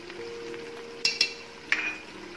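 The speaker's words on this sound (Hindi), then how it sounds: "1/2 टीस्पून काली मिर्च डाल के इसको अच्छी तरह मिक्स कर लेंगे" Marrow sabzi is stirred with garam masala and black pepper in a frying pan, giving a soft steady sizzle. Three sharp utensil clinks against the pan stand out near the end.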